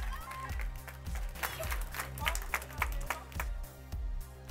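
Audience applause at a French-language improv match, a bright steady patter of clapping running throughout under rhythmic thumping music and a voice speaking over it.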